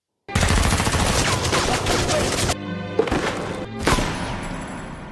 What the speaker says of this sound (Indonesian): Kemudian anak buah Shenwu datang dan menembak Aryan hingga tewas.